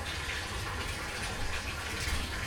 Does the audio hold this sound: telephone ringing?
no